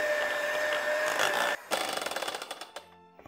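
An electric hand mixer runs on high through pancake batter, giving a steady whirring buzz for about a second and a half, then a string of rattling bursts that fade as the beaters slow.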